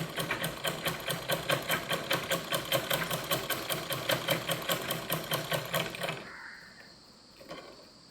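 A sewing machine stitches doll clothes in a fast, steady run of mechanical pulses for about six seconds, then stops and the room falls quiet apart from a faint knock.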